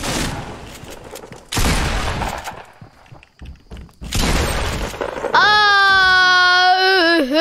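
Fortnite gunfire comes in loud, dense bursts with thuds and quiet gaps between them, and ends in a sustained, warbling in-game tone.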